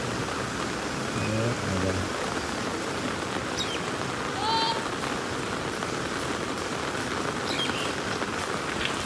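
Heavy rain pours down steadily in Patan, water running along the streets, a dense continuous hiss that stays loud and even throughout, with a few faint distant sounds poking through.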